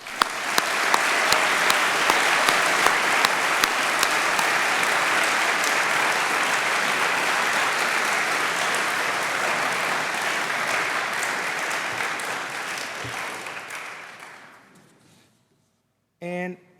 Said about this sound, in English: So quick round of applause for Alianza members who have done this.